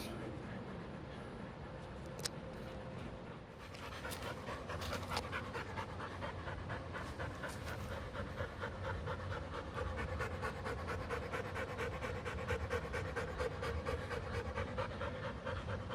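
Two dogs pant steadily and close up, a continuous rapid huffing rhythm over the whole stretch, with a few faint rustles and no talk.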